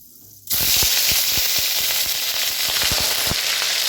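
Nigella seeds hit hot hilsa fish oil in a sudden loud burst of sizzling that stays strong and close, crackling with scattered pops and light stirring clicks.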